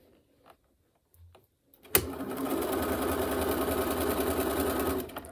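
A domestic sewing machine stitches the two side pleats of a fabric face mask at an eighth-inch seam, a few faint clicks first, then a steady close mechanical whir with fast needle chatter running about three seconds before stopping.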